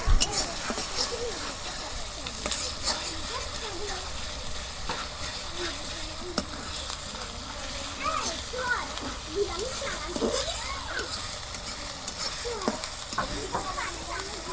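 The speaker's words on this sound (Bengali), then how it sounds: "মশলাগুলো আমি ভালো করে ভেজে নিই তেল দিয়ে।" Spices sizzle steadily in hot oil for a tomato chicken curry, with a continuous frying hiss, occasional spoon scrapes and stirring clatter throughout, and a person speaking over the cooking now and then.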